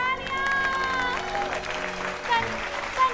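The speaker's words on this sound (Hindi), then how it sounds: "जोरदार तालियां।" A television studio audience applauds loudly and steadily during a Diwali episode of a Zee TV show, with crowd noise blended over music.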